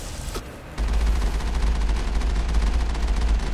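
Rapid bursts of gunfire from the Mass Effect video game, a sustained loud fusillade that starts abruptly after a short lull and keeps hammering steadily with no talk over it.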